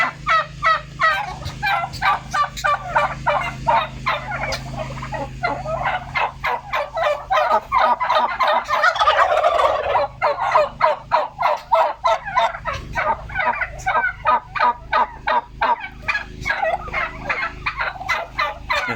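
Many turkeys gobbling loudly and repeatedly on an organic turkey farm, overlapping bursts of calls filling the whole stretch with a brief denser swell midway, with no talk.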